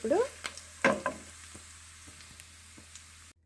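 Chillies fry in oil, a soft low sizzle with a few scattered clicks and light taps of stirring, brief voice-like sounds near the start, quiet and fading to silence at the end.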